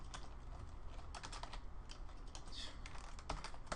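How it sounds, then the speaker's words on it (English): Keys clatter on a computer keyboard during 3D CG environment scene work, with irregular bursts of close, crisp taps alone, with no talk. "I cannot type today."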